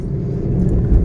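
A vehicle approaching from the opposite direction on a road in Coimbatore, heard as a loud, close, rising low engine rumble that swells steadily over about a second.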